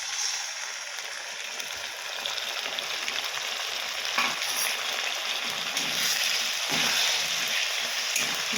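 Ginger, garlic and dried chili paste sizzling in hot oil in a wok with onions, a loud, continuous close-up hiss that swells slightly partway through, with no talking.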